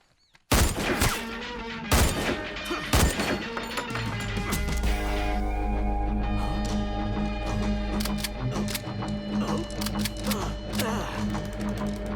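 Rapid bursts of gunfire from a Hindi-dubbed action movie, with sharp scattered shots at first, then a long dense fusillade over a low rumbling score, loud and close throughout.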